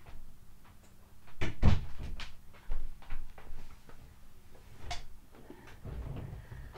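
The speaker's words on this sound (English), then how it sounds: "I am going to close the door just so the little baby doesn't get too noisy." A room door is shut indoors at a computer desk, a few soft wooden bumps and a firmer latching knock amid light handling clatter and room hum, close and moderately loud, without speech.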